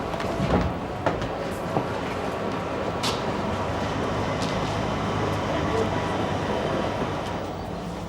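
Rumbling train interior with a steady low roar, occasional clicks and squeals of wheels on track, moderately loud, on a train stopping at Island Gardens; a voice may talk faintly underneath.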